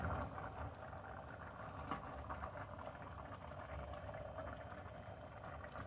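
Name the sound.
pepper jelly boiling in a pot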